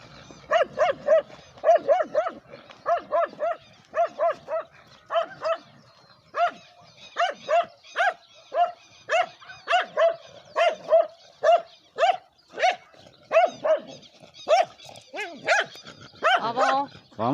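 A pack of about eleven dogs barks repeatedly on a walk to a river, with short sharp barks in irregular bursts from several animals, some near and loud, others further off, with no clear talk.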